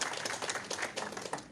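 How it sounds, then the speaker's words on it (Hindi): A church congregation claps loudly to thank God, a dense burst of many hands applauding together close by, with no break across the short stretch. "हम जोरदार ताली से हम प्रभु को धन्यवाद देंगे"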